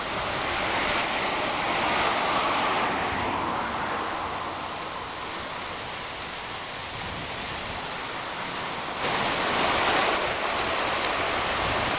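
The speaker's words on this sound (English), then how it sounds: "Nice tumbling mountain stream here." A tumbling mountain stream among big boulders and rocks above the forest, heard as a steady, broad rushing wash of water with slight swells in loudness, no talking.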